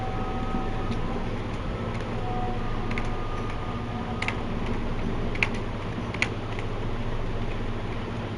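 Typing on a computer keyboard while writing HTML list tags, with a few sharper key clicks standing out over a steady hum of room and computer noise; no one speaks.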